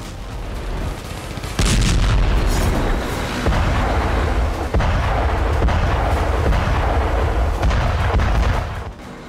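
Israeli Merkava Mark 4 tank firing: a series of loud, heavy booms with sustained rumbling roar between blasts, dense and continuous throughout.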